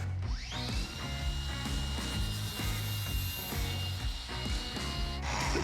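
A finish sander working on wood in a houseboat renovation, giving a close, steady buzzing motor whine with rhythmic rasping pulses as it moves across the surface, starting up and running continuously.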